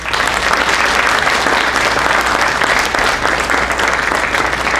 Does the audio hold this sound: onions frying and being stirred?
no